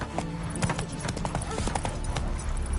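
Hooves clip-clop in a steady, brisk rhythm as the horse Roach gallops in The Witcher 3, with a busy game soundscape layered around the hoofbeats.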